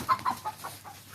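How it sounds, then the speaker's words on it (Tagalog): A chicken on a goat farm with papaya trees clucks in several short, quiet bursts at a distance, with soft outdoor background noise. "Ala, lintik na yung manok."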